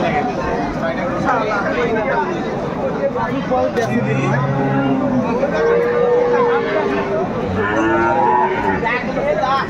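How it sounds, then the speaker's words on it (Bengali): At a busy cattle market in Aftabganj, a cow with her calf gives several drawn-out moos, some near and some farther off, over constant crowd chatter and people talking. "গাভী বাছুর আমরা দেখছিলাম এখানে"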